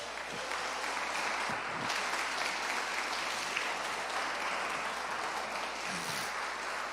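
A church congregation claps hands together in a continuous, even wash of clapping that holds steady throughout, with a low background hum.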